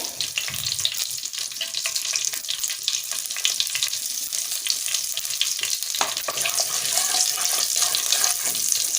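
Black cumin seeds sizzle and crackle in hot oil, a steady, bright frying hiss with fine popping that holds evenly and close, with one sharper burst midway.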